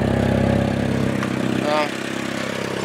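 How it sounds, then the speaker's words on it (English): A 2000 Volkswagen Jetta with an exhaust leak idles close by, a steady, rough mid-pitched rumble that dips slightly partway through, with a person talking over it. "Does have an exhaust leak under it."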